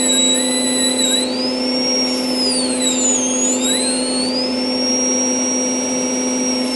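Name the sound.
engraving a glass wine bottle with dust collector running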